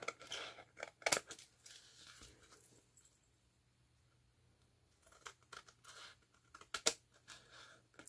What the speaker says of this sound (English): so we'll cut these sides off